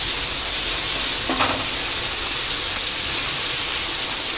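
Ingredients sauté in a hot pan for a simple healthy home dish, giving a steady, even sizzle and hiss that continues throughout, with one faint clink partway through and no voices.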